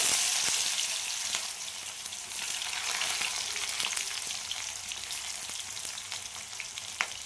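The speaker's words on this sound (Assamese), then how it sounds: "তেলখিনি গৰম হোৱাত মই ইয়াতে নহৰু দিলো অকমান পিঁয়াজ দিলো" Garlic and onion frying in hot oil in a pan for a mixed vegetable chutney: a steady, close, bright sizzle with crackling pops throughout, no talking.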